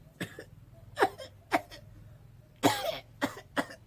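A person coughs repeatedly, about seven short, harsh bursts spaced irregularly, close to the microphone, with quiet pauses between them.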